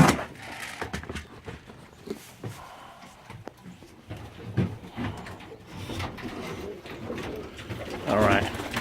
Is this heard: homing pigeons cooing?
yes